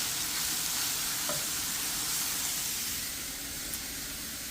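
Shrimp fry in a hot pan with a steady, loud sizzle and hiss that holds evenly throughout, easing slightly toward the end.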